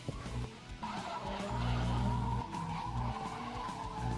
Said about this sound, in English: Salah coming out in the R32.